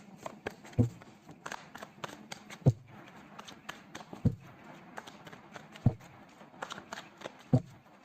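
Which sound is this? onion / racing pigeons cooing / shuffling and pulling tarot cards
shuffling and pulling tarot cards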